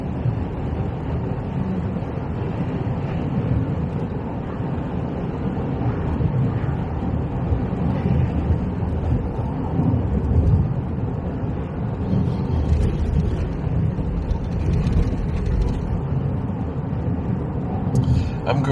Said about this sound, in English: that's really blustery out there. And I can hear it hitting the side of the car.